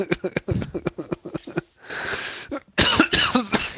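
A man with a persistent cough among friends during a casual football session, giving a burst of short rapid coughs and sniffs, a rougher breathy stretch, then another cluster of harsh coughs, close and fairly loud.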